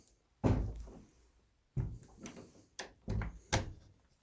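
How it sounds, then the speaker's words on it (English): Several heavy thuds and knocks of a door being pushed shut inside a bed and breakfast under renovation, arriving in separate bursts with quiet gaps between them. "There, so that door's shut."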